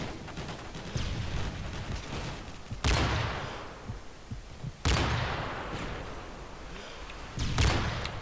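Sniper rifle shots in Modern Warfare 3 on the Interchange map: three sharp, loud cracks spaced a couple of seconds apart, each with a decaying tail, over steady game background noise.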